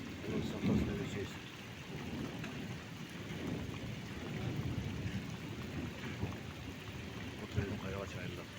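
Floodwater and mudflow rush through Kairagach village in Nookat district, a steady broad roar of churning water with rain-like noise, continuous and fairly close, with voices talking faintly underneath.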